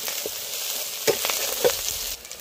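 Fish frying in oil in a pan over a wood-fire stove, a steady, close, bright sizzle with a couple of soft stirring knocks partway through.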